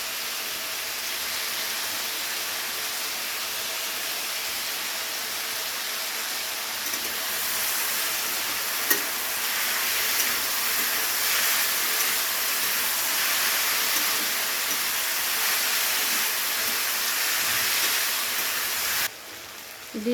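Potatoes fry in a pan with salt, turmeric and slit green chillies, giving a loud, steady hiss of sizzling oil that barely changes throughout, with one brief clatter near the end and no speech.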